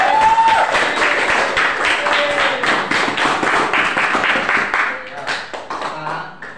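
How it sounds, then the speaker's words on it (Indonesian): Schoolchildren in a classroom clap their hands together in a dense, fairly loud burst of claps, with children's voices talking and calling out over it. "Tepuk tangan dulu dong."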